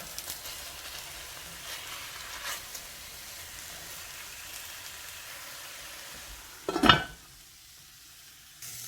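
Chile verde ingredients, seasoned with cumin, sizzle quietly in a pan as they toast, with a steady low frying hiss and a brief louder burst near the end as they are turned.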